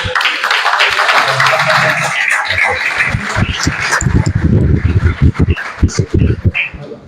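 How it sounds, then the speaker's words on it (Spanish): An audience at a business talk gives a burst of applause, with clustered claps growing denser toward the end while a voice carries on over the start. "Vamos, un fuerte aplauso para ambos"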